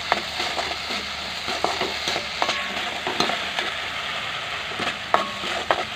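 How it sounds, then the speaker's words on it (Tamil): Coriander rice masala being stirred in a pan on low heat, a steady soft sizzle close by with repeated spoon scrapes and taps at an irregular pace, with no talk. "அடுப்பை கம்மி பண்ணி வச்சுட்டு கிளறி விடுங்க."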